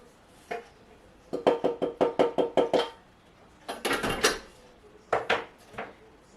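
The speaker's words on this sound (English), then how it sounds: "I'm scraping down the sides." A spatula scraping down the sides of a food processor bowl holding chopped garlic and chilli makes a quick run of sharp plastic knocks and scrapes, then a few scattered clatters afterward.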